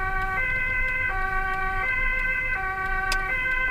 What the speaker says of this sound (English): this is the Netherlands. Very bizarre looking ambulance in front